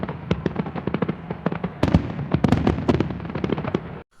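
Firecrackers set off outdoors in a rapid, uneven string of sharp loud bangs and pops, crowding together into a dense crackling burst before stopping abruptly.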